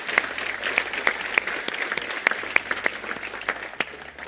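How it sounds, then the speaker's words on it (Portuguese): An audience claps together in sustained applause, a dense crackle of many hands with sharper individual claps standing out, with no one speaking over it. "Vamos dar uma salva de palmas para todo mundo que produz"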